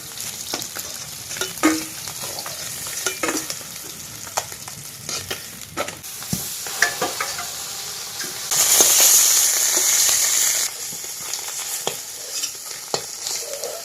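Fish frying in oil in a kadai, a steady broadband sizzle with intermittent clinks and scrapes of stirring, briefly surging louder midway before settling back.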